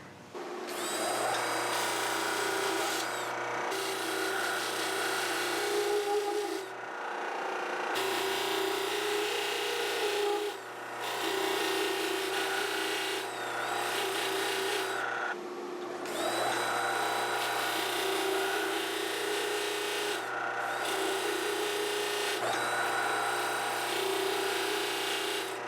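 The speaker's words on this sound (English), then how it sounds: "Over to the disc sander." Disc sander grinding down steel washers, loud whirring bursts of motor and abrasive contact separated by brief pauses, with a low steady hum underneath.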